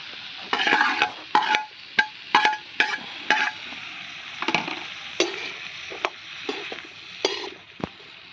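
A vegetable fry cooks over an open fire at an outdoor picnic, with repeated sharp clanks and scrapes of a utensil against the pot in uneven bursts over a faint sizzle, and no voices.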